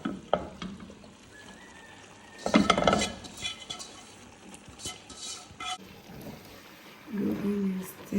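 Kontomire leaves being stirred into a pot of authentic Ghanaian palava sauce, with a couple of louder scraping, sizzling bursts over a low kitchen background; there is no clear talk.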